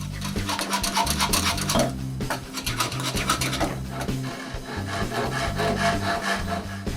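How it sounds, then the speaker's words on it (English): Hand tool rasping and rubbing wood from the ends of broken chair back arches during a chair restoration, a steady close scraping with repeated strokes and no talk. "I have to remove a little bit of wood on both ends so they can fit in the same seat holes."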